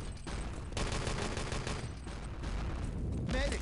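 Dense gunfire in the Enemy Territory shooter, including a Panzerfaust launch, rolls on as a continuous barrage of cracks and booms, with faint talk underneath.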